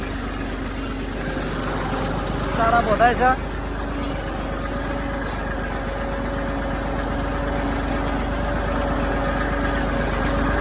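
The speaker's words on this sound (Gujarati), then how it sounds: "ટ્રેક્ટરનું કોઈ હળિયું ચાલુ છે" A tractor running with a plough on a farm field idles in a low, steady drone in the background while people talk over it throughout, with a brief louder rattle partway through.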